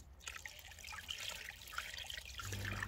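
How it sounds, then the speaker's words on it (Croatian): Water seeping into cabbage packed in a sauerkraut barrel as air bubbles escape: a very faint, close trickling with small bubbling pops and a low hum growing slightly near the end. "mjehurići zraka izlaze van i voda ulazi u kupus"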